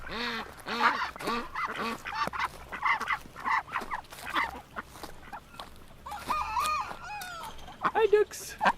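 Ducks on a farm wetland in winter, quacking in short bursts while a person talks to them and walks nearby, with calls and voice overlapping throughout.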